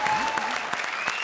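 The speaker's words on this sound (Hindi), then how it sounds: "ठोको ताली इसके लिए" Studio audience at a comedy show clapping, a dense, steady burst of applause with a faint voice over it.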